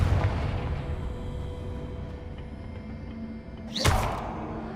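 A Confringo explosive spell cast in Hogwarts Legacy: one sharp, loud blast that booms out near the end over a low, steady rumble of game ambience.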